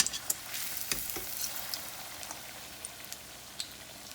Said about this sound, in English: And I'm going to fry out this last one